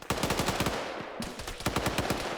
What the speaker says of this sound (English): he was getting shot at by a blue 4 guy